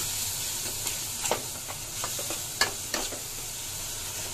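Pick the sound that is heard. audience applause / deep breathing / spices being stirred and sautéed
spices being stirred and sautéed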